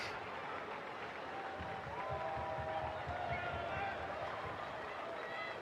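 Crowd at a women's football match between Charlton Athletic and Durham reacts after a goal, a sustained mix of applause, cheering and murmur with a commentator's voice over it.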